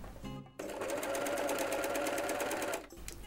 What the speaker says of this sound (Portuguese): E aí eu vou costurar normalmente agora.